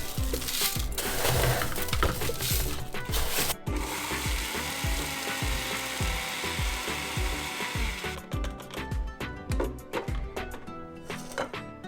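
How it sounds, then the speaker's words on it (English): Electric grinder milling roasted coriander and cumin seeds into powder, a loud close whirring grind with rhythmic rattling pulses, a brief break near the middle, then choppier bursts toward the end. "I'm just going to go ahead and grind it in batches."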